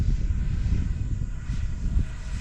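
A model jet, such as an F-16, AvantiS v2 or MiG-29, flies at about half throttle, giving a steady low rushing engine drone with slight surges, fairly close and with no talk.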